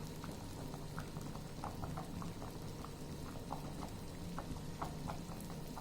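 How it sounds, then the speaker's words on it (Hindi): Rice boils vigorously in a covered pot for daal chawal, a steady close bubbling with scattered small pops and splutters throughout, no voices. "राइस को अच्छे से बॉयल आ गया है।"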